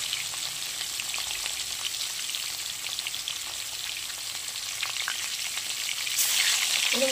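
Catla fish pieces sizzle and crackle steadily in hot mustard oil in a pan, a dense close frying hiss that holds through with no talking and swells slightly louder near the end.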